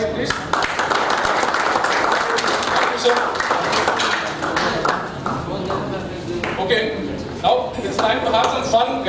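A crowd at a sports club awards night claps together, a dense, continuous patter of many hands close by, with speech and some chatter mixed in throughout.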